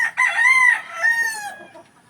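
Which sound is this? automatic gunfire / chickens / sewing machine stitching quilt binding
chickens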